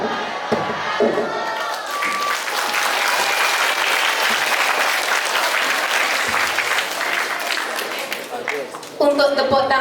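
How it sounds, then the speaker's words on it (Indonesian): Audience applause with cheering fills a school hall after a ninth-grade class group presentation, loud and sustained with crowd voices and shouts throughout. "Untuk tepuk tangannya,"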